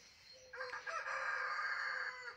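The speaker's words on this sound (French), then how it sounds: "Encore le coq." Rooster crowing once in a vegetable garden, a single long, clear cock-a-doodle-doo at moderate distance over quiet outdoor background.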